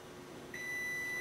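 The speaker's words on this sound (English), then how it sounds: "The oven's gonna keep beeping at you." A single long electronic beep from a microwave oven cuts in partway through over a quiet room hum and holds steadily.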